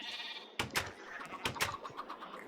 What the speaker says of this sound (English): That's what the baby sheep looks like.